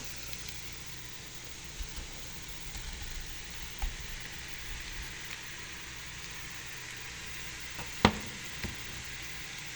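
Tofu frying in a pan with curry gives a steady, quiet sizzle and hiss throughout, with a few faint clicks and one sharp utensil knock near the end.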